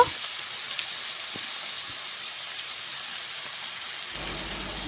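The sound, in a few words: potatoes frying with salt and turmeric in pan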